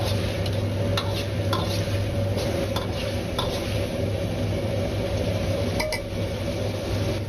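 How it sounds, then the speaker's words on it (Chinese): A spoon pushes braised tofu quickly around a wok as the sauce reduces over raised heat, giving a steady close simmering sizzle with scattered light metallic clinks, no voices. "这时候可以把火稍微开大一点，用勺子快速的推动"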